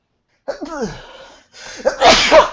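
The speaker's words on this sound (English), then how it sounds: "I'm gonna sneeze" A person speaks briefly, then lets out a loud, sharp sneeze up close, followed by a short breathy aftersound.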